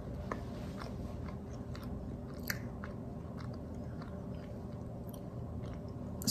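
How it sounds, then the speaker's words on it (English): Close chewing of a freeze-dried green olive, soft repeated crunching and mouth sounds in a quiet room, low and steady with no talking. "let's try one of the green olives."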